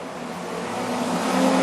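Street stock race cars roaring around the Carina Speedway oval during a final, a steady loud engine drone that builds slightly as the pack sweeps through.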